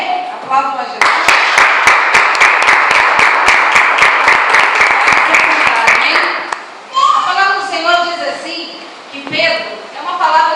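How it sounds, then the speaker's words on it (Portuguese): A church congregation at an Assembly of God service claps together in a brisk, rhythmic burst lasting several seconds, then it stops and a voice speaks over the quieter room. "Aplaudam a Jesus"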